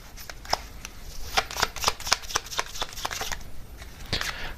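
A deck of oracle cards is shuffled by hand in quick, crisp riffling bursts that repeat unevenly, close and fairly loud, with no talking.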